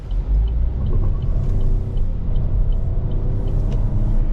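A 2024 Chevrolet Trax 1LT, front-wheel drive, drives along with a steady, loud low engine and road rumble that holds even throughout, with no talking.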